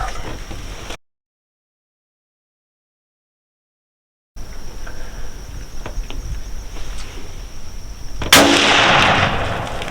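Gunshots from a hunting game, a sharp loud report near the end standing out over steady outdoor ambience, after a stretch of complete silence.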